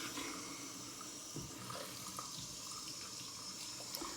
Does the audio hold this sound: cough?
no